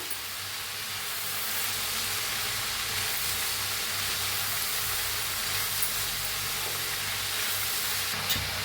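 Cabbage sabzi with tomatoes frying in a pan gives off a steady broadband sizzle throughout, with soft stirring scrapes underneath and no voices.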